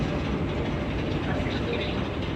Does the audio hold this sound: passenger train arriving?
yes